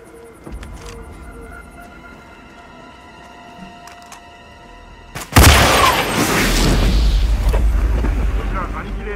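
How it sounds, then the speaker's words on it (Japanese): A sudden loud boom bursts out partway through, then a sustained roaring rumble follows. It comes after quieter game ambience with electronic tones in the Hitman video game. "こちらドリクさん、セクター63にて爆発あり、オーバー"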